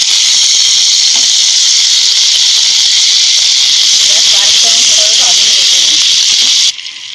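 Crushed green chili paste, pounded from four or five green chilies, hits a hot pan and sizzles with a loud, steady hiss that holds nearly the whole time before dropping off abruptly near the end.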